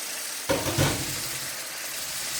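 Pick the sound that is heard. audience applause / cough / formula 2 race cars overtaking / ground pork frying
ground pork frying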